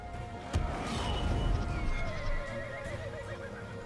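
A horse whinnies loudly in Total War: Three Kingdoms, a long wavering neigh trailing off over a battle din of hooves and clatter, with a sharp impact near the start.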